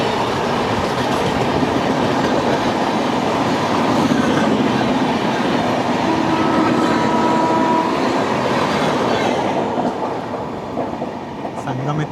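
Kerala Express train rolling steadily over a level crossing, loud continuous rumble and rhythmic clickety-clack of wagons close by, easing slightly toward the end.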